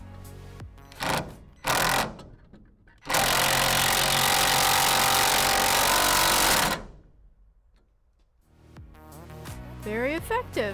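A newly replaced electric motor in a small geared machine runs loud and steady for several seconds after a few short bursts, then winds down, with light clicks and handling noise around it.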